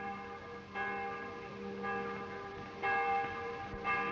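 Church bells ring in a steady sequence of sustained, overlapping tones, sounding moderately distant with a repeated strike every second or so.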